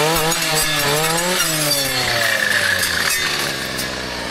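A small high-RPM brushcutter engine screams close by, a loud continuous whine that dips and climbs in pitch as the throttle shifts, running steadily through the whole stretch.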